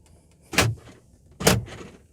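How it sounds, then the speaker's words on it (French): Central door locking on a 2002 Volkswagen New Beetle 1.4 16v, two sharp mechanical clunks about a second apart, close and loud against a quiet background. "La centralisation des portes."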